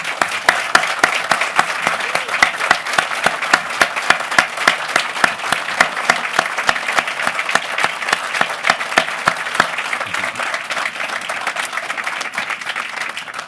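An audience at a building expansion presentation gives a long, steady round of applause, dense clapping that holds loud and even throughout before thinning slightly near the end.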